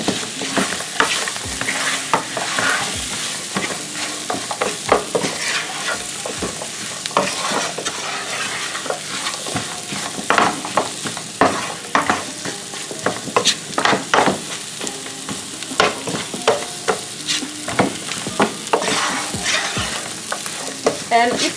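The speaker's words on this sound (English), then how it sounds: "So what I'm going to do next is I'm going to add the onions." Onions hiss and sizzle in a hot frying pan for a Jamaican-style curried chicken with potatoes and carrots, loud and continuous, with repeated scraping and clinking of a spoon as they are stirred.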